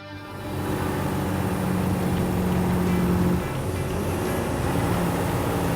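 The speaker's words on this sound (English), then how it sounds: "This thing just pulled a downshift from 8th to 7th, going from 1800 to 2300 RPM." A Western Star 5700XE truck with a DT12 transmission roars with its engine brake on a desert road, the drone shifting pitch midway as it downshifts from eighth to seventh gear, loud and steady with no talk.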